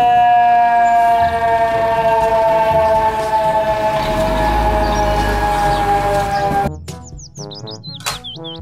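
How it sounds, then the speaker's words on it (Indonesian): A toy fire truck siren wails loud and steady with electronic tones that slide slowly downward, then cuts off abruptly and gives way to quick chirpy electronic warbles. "Mobil truk pemadam kebakaran."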